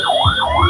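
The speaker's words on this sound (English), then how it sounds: "the sounds of the sirens from every corner" Emergency sirens wail loudly and close at Senator Prince Johnson's funeral procession, the tone sweeping up and down in a steady repeating cycle over a low vehicle rumble.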